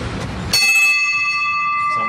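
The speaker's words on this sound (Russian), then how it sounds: "Первая часть звона колокольного называется благовестный." A single large church bell is struck once for the slow blagovest peal, a sharp clang followed by a long, clear ringing hum that fades slowly, loud and fairly near after a moment of low background noise.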